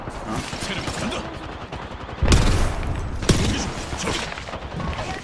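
Combat in the video game Apex Legends: a dense clatter of gunfire and action with a heavy boom around the midpoint and another sharp blast a second later, loud and continuous.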